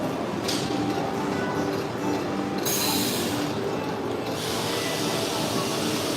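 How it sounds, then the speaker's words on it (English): A multi-needle linear quilting machine sewing chain stitch on mattress borders runs with a steady, loud mechanical drone that holds continuously throughout, with a brief brighter whir partway through. "Linear quilt machine is similar structure as the quilting machine, a multi-needle quilting machine."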